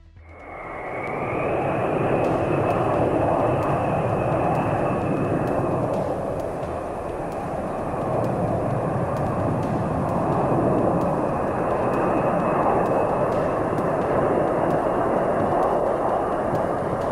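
A military aircraft roars past during a training display, its engine drone swelling in quickly and then holding loud and steady throughout, with no talk.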